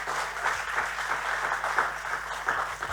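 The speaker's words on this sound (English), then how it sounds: "Isn't the band fantastic, guys? Give them a big round of applause" A round of applause from an awards-ceremony audience for the band, dense steady clapping at close range throughout with no voices over it.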